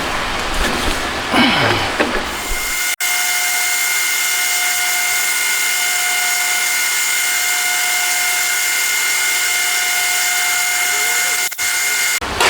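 A metal lathe turns the other side of a crankshaft for a homemade 125cc four-cylinder, 16-valve engine, giving a steady, loud whine with a constant tonal hum and brief cutting noise at the start, then a sharp click.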